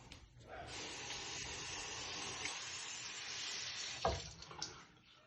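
Tap water runs steadily into a sink as a charcoal face mask is washed off, a close hissing stream with brief splashes near the end.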